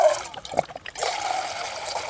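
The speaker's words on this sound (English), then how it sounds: "A tiny little bit of water for oatmeal because I have just one packet of like Quaker oatmeal" Water trickles and pours from a backpacking container into a small pot for oatmeal and coffee, a close, soft splashing stream with a brief pause before it continues.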